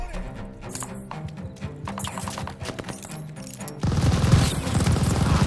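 A tower-mounted machine gun fires in a World War II battle in the game Call of Duty: Vanguard. Rapid bursts crackle over a tense musical score and then give way to a dense, sustained roar of gunfire.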